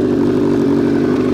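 Suzuki Bandit cafe racer motorcycle idling on tick over with a dB killer fitted in a new exhaust can, a loud steady low-pitched engine drone, close up and unbroken with no voices.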